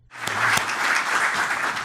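Club members at a Fenerbahçe-related meeting break into sustained applause, a dense, steady wash of clapping that starts abruptly and holds at an even level with a few sharper claps standing out near the start.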